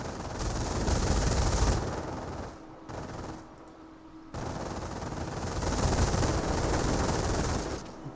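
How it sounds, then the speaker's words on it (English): Defensive machine guns in Company of Heroes 2 chatter in long, dense bursts at moderate loudness, broken by a brief lull midway before the rattling fire resumes and swells again. "Defensive MGs actually providing their worth and use once again."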